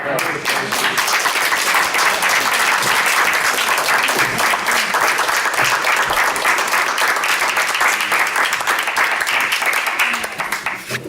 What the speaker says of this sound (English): would like to applaud again Denise